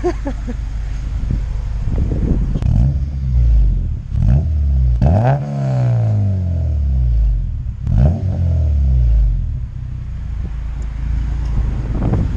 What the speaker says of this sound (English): Why don't you go give this thing a rev, Michael?